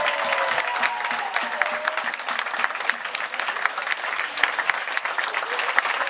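An audience at an evening cabaret dinner on 15 August applauds loudly and continuously, dense rapid clapping from many hands close by, with a faint whistle-like tone early on and no clear talk over it.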